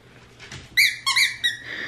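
A squeaky toy ball for dogs squeals three or four times in quick, loud, high-pitched bursts, close by, after a quieter first half with no talking.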